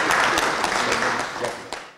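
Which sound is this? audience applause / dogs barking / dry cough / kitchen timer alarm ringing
audience applause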